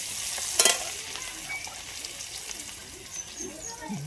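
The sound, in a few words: chopped onion frying in oil with potatoes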